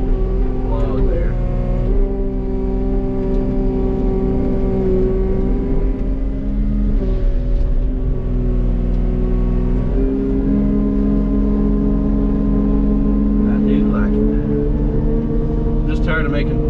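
A CAT 289D3 skid steer fitted with a mulcher and grapple idles and runs steadily nearby with a constant low engine drone, shifting pitch slightly as the load changes, with a faint voice beneath it.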